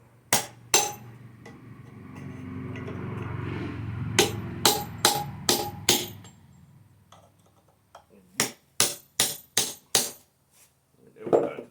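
A hammer smacks a metal can clamped in a vise, about fourteen sharp ringing blows in uneven bursts, with a low rumbling stretch between the first strikes and the later quick series.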